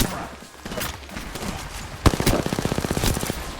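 Gunfire in a shooter video game: scattered shots, then a loud sustained burst of rapid automatic fire in a steady, fast rhythm.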